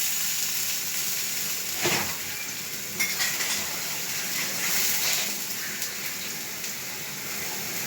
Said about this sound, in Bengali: মশলা কষানোর জন্য হালকা একটু জল দিয়ে দিলাম